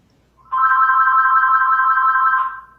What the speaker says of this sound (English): Of course, one more phone call.